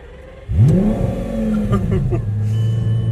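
A homemade turbocharged Lamborghini replica engine revs up sharply and keeps pulling as the car accelerates, a loud, close, rising engine note with a steady drone afterward.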